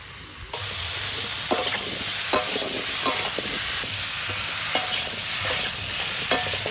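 Food sizzles in hot oil in a pan on a gas stove while being cooked for a homemade fish curry. A steady hiss runs throughout, broken by sharp clicks and scrapes from a stirring utensil and no voices.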